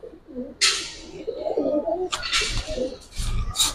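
Pair of red checker pigeons cooing nearby, soft throaty rolling coos repeating irregularly, interrupted by several bursts of wing flaps or shuffling.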